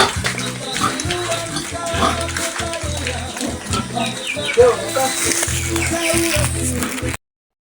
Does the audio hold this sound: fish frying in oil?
no